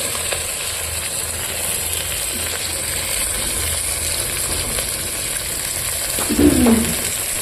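Onions sizzle steadily in hot oil for a vegetable biryani, a constant even frying hiss with a brief stirring scrape near the end and no talk.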